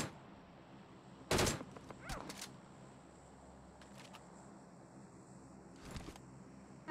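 Shots from a shooter video game crack out in a few sharp, fairly faint bursts, one stronger blast and several lighter reports, over a quiet game backdrop.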